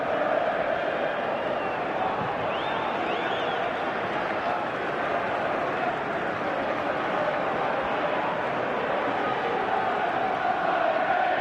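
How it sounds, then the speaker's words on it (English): Football stadium crowd at a West Bromwich Albion versus Tottenham Hotspur match, a dense, steady roar of many voices filling the whole stretch at even loudness, with no distinct chants standing out. "Much of the crowd's vitriol has been directed towards him as well as the referee, Phil Dowd,"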